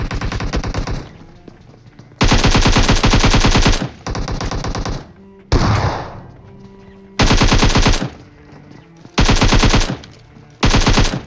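Long bursts of rapid automatic gunfire from a battle royale video game fight, loud and dense, coming in repeated volleys separated by short pauses, with a few single shots and scattered impacts between them.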